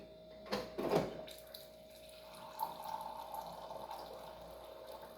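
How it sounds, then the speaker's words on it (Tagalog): Hot water is poured into a glass in one short splashing burst near the start, followed by a quieter, softer trickle and settling. "isang basong mainit na tubig"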